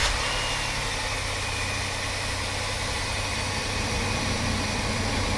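A 1999 Chevrolet Astro engine idles at normal running speed, a steady, even hum with constant vibration and no change in pitch, close and alone.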